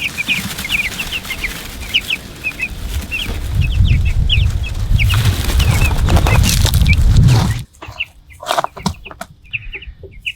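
Farm chickens being raised for meat cluck and squawk in short repeated calls, with shuffling and low rumbling underneath, cutting to quieter scattered clucks near the end.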